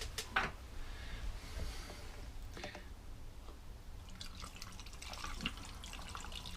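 Two-stroke fuel mix pours through a funnel into a mower's tank, a soft trickling and gurgling liquid stream with occasional splashes and plastic knocks, faint and close.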